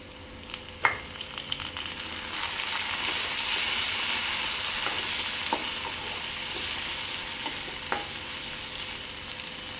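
Tomatoes sizzle and get stirred in a hot pan with onions while semiya upma is cooked, a steady frying hiss broken by a few sharp scraping clicks from the spoon, close and without talk.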